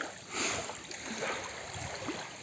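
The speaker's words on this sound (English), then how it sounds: "lapping into the shore and there's lots of foam there" Soft, close lake water sloshing and lapping gently at a foamy shore, a quiet continuous wash with small splashes.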